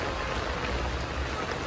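Steady rain pours over a busy commercial street in a Xi'an urban village, a dense, even hiss close around with no voices.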